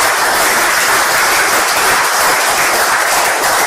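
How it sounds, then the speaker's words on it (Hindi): A seminar audience breaks into sustained applause for a business presentation, a loud, even roar of many people clapping at once with no pauses. "तो किसके लिए ताली बजानी पड़ेगी?"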